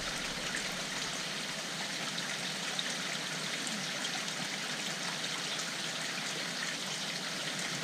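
Water from a koi pond filter pours over a shower at about 20,000 litres an hour, a steady, close, broadband rushing trickle that holds constant throughout, with no voices.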